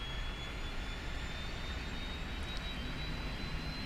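An Airbus A350 auxiliary power unit spins up in the X-Plane 11 flight simulator with an FMOD sound pack, a steady broadband turbine roar with a thin high whine, moderately quiet and unbroken.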